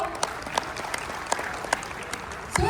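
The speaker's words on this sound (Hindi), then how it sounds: "एक बार फिर अपने आप के लिए जोरदार तालियां" An audience claps at a competition event, a moderate burst of applause with sharp individual claps popping out over the steady patter, heard with no speech.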